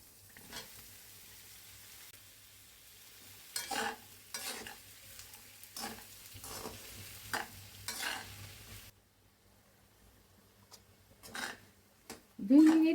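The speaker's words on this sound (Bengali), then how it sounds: "আমি পেঁয়াজের সাথে আলুটাও ভাজা ভাজা করে নিব" Onions, green chilies and potatoes fry in a pan in a home kitchen, with soft sizzling broken by scraping stirs, a quiet pause, then renewed clatter near the end, while a person talks over it.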